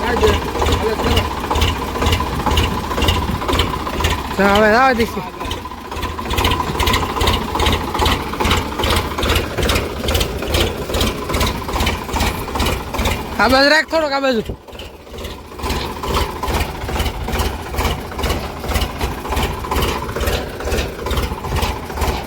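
A farm tractor's engine runs steadily throughout, a loud continuous chugging drone close by, while people talk over it, briefly dipping at one point.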